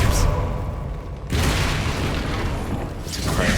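A deep, sustained boom fills the soundscape as the Bombarda spell explodes in Hogwarts Legacy, a dense rumbling blast that continues with heavy roaring debris throughout.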